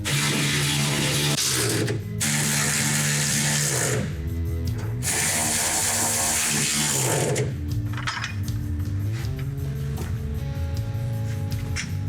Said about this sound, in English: Let's tighten down all of our bolts.